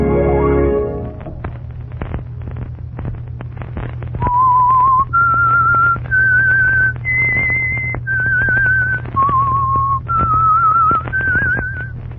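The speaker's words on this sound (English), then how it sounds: "Let that whistle be your signal for the Signal Oil program" A tune is whistled, a series of sustained, wavering notes stepping up and down over a low steady hum, starting after a short pause and heard clearly alone as the signal for the Signal Oil program's The Whistler.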